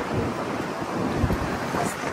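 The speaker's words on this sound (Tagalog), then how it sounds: "Malakas pa rin po yung hangin." Steady, roaring wind buffets the microphone throughout on a mountain, a constant low rumble with gusty surges and no clear voices.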